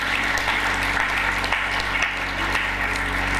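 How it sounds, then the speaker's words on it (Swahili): A church congregation applauds, steady broadband clapping running loud and continuous throughout the short stretch, with a low hum beneath and no clear talk. "Mpe Bwana makofi mengi mengi"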